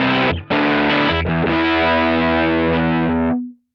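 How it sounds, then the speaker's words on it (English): An electric guitar through a Kemper full-volume liquid profile of a Deluxe normal amp rings out in distorted chords, a quick stab then a long sustained strum that fades away at the end. "this is the sound of the full volume liquid profile."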